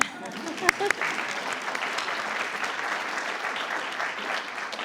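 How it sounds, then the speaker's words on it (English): Audience applause at a Prince William County School Board meeting: steady, dense clapping from a crowded room that carries on evenly for about five seconds, with one sharper clap near the start. "should we clap for them too? I'll clap."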